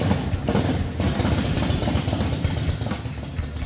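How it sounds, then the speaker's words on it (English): Harley-Davidson FXR motorcycle engine running at a steady idle after starting, with a Scavenger total oil change system fitted; a continuous, rough, throbbing low rumble, fairly loud and close, with no talking. "Make sure your oil tank's full of oil and then start the bike."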